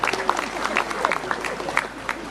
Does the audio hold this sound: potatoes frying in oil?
no